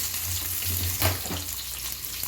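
Onion frying in oil with fenugreek seeds, cloves and cumin for a fish pulusu, a steady sizzle with a brief louder burst midway as it is stirred, close and continuous with no talking.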